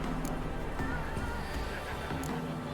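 A horse in Witcher 3 whinnies and neighs with clip-clopping hooves, game sounds layered under a nearby talking voice, with a couple of sharp bursts standing out.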